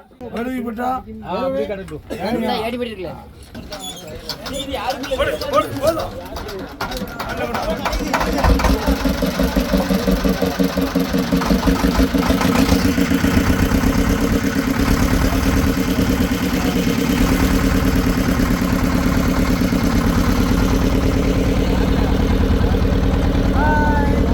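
A fishing boat engine on a tuna boat cranks and catches after a few seconds, then runs loud and steady with a rough, continuous drone. People talk over the early part.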